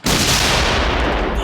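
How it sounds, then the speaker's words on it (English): A cannon fires in a dramatized battle at a military fort, one loud broadband blast that sustains as a dense roaring rumble with no voices over it. "Lochlan crawls to the closest cannon. He can feel the weight of the shot in it. It's loaded and ready to fire."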